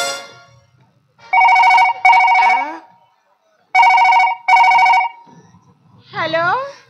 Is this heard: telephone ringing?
yes